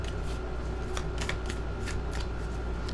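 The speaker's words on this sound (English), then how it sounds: "Let's get this shuffled really well." A tarot deck is shuffled close by, a steady run of papery card flicks with repeated riffle bursts over a dense background hum.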